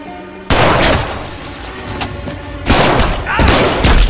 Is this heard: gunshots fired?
yes